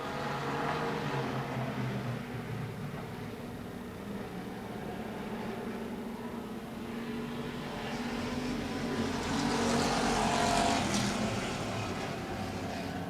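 Race cars lapping a dirt oval at Grundy County Speedway, a steady broad engine roar that swells near the end as cars pass close, with no talk over it.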